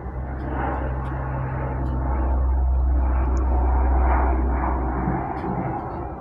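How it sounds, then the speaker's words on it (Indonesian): An airplane passes overhead with a steady, loud low engine roar that swells and then slowly fades, heard outdoors during air conditioner servicing work. "Nah, kita break dulu teman-teman, ada pesawat lewat dulu ya."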